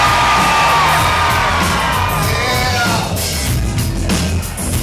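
A concert crowd at a live rock show in Belfast screams and cheers loudly, a dense sustained roar with high whoops and yells that eases slightly toward the end.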